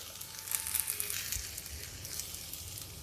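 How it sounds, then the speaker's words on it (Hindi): Potato pieces frying in a little hot oil over a high gas flame, a steady soft sizzle with light crackle and occasional faint stirring scrapes, close and unaccompanied by talk. "ये आलू थोड़ा फ्राई कर लेते हैं"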